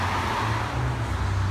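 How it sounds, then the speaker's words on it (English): A car approaches up a residential street at night, a steady low rumble of engine and tire noise rising gently from a distance and staying moderate throughout, with no talking. "As another car is coming up the street here."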